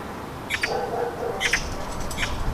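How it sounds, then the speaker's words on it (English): Magpies call near a garden bird feeder in a tree-lined yard, sounding as a few short harsh chattering bursts spaced out over a couple of seconds, moderately close over faint outdoor background. "Magpies."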